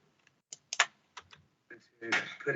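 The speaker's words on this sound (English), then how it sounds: "I'm using the spacebar to play" Computer keyboard spacebar pressed repeatedly to start and stop playback in editing software, giving a few quiet, sharp plastic clicks at uneven intervals, followed by a louder, denser burst of sound near the end.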